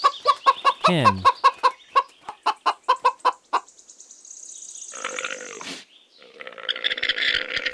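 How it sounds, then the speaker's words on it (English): A hen clucks in a quick series of sharp, evenly spaced clucks, close and clear, then trails into a drawn-out squawk and mixed background noise. "Hen."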